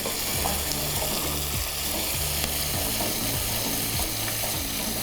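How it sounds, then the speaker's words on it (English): Vegetables sauté in a hot pan with parsley, giving a steady close sizzle and frying crackle, with occasional stirring scrapes and faint clinks, no voices. "Now that our vegetable is sauteed"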